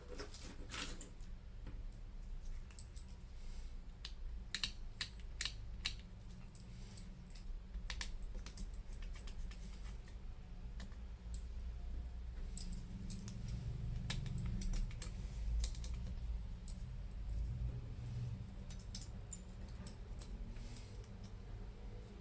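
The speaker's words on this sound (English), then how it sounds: "So let's take the screws out," Small screws being removed from an Apple iPhone 8 during a repair: scattered light clicks and ticks of a tool on metal and plastic over steady low hum, close and fairly quiet, with no talking.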